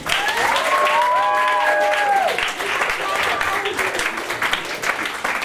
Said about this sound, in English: Give them a big old round of applause!